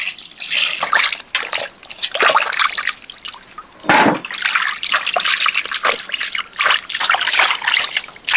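Water splashes and trickles steadily over cut beef marrow bones being washed in a bowl, a close continuous wet gurgle with uneven bursts and clatter, without any talking.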